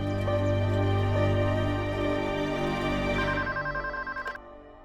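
A telephone rings with a sustained electronic tone, loud and steady, before the ringing pulses briefly and cuts off.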